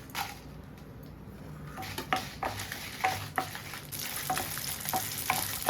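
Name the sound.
dried red chillies frying in a little oil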